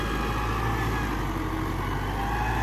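Fiat 640 Al-Ghazi 85 hp tractor engine running, a steady loud low diesel drone held evenly throughout with no speech.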